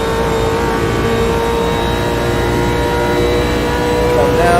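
A race car in Automobilista 2 at Bathurst accelerates out of the corners with a loud, sustained engine drone and steady high whine across the whole stretch, while a voice talks over it.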